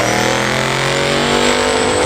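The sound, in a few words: Chevrolet C10 truck engine revving on a dyno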